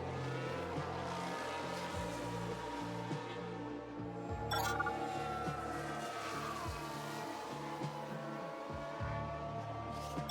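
Race cars from the F1 Manager 2022 game roar continuously at close range, with one car losing control and spinning out amid layered engine drones and a brief squealing burst midway.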